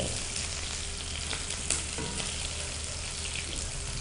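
Green chillies fry with onions in a pan for bell pepper bagara rice, giving a continuous even sizzle with a few faint stirring clicks and no voices.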